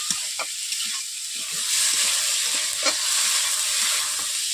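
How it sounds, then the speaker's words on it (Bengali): Potatoes sautéing with spices in a pan for a spicy salted ruli fish curry, a steady loud sizzle with scraping stirring strokes throughout, close and alone. "3 থেকে 4 মিনিট আমি মশলার সঙ্গে কষিয়ে নিচ্ছি আলুটাকে"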